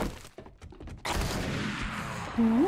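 Gunfire in the zombie survival game 7 Days to Die: a few sparse thumps, then from about a second in a dense, loud, continuous wash of shots and noise that lasts to the end.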